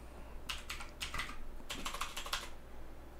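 Short bursts of keystrokes on a computer keyboard come in quick clusters with brief pauses. The clicks are quiet and close, with no talking.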